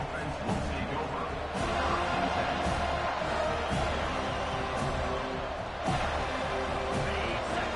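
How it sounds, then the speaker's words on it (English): A stadium crowd at an Oklahoma State college football game roars loudly and continuously, a dense wall of cheering that swells slightly in places. "This crowd, full throat, splitting the eardrums and letting them know it's going to be a long day."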